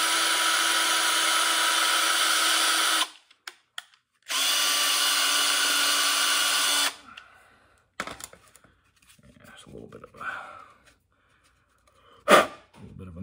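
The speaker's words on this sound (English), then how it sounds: "you drill a hole in it about an inch from the end" A power drill bores a hole about an inch from the end of a wooden dowel for a homemade wrist wrench, running in two long steady bursts up close, followed by quieter handling clatter and one sharp knock.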